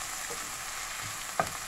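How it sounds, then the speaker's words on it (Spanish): Onion sautéing in oil in a pot for a lentil stew, a close, steady sizzle with a soft stir and a brief clatter near the end. "Vamos a sofreír un minuto la cebolla."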